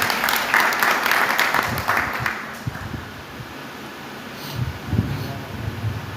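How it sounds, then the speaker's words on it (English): Audience clapping at a devotional class in a temple hall, a short burst of applause in the first seconds that fades into room noise, with faint murmurs and movement afterward. "Give him a round of applause."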